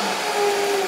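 A food processor whirs on its high turbo setting while blending raw crumble ingredients, a brief, loud, steady motor whine lasting under a second.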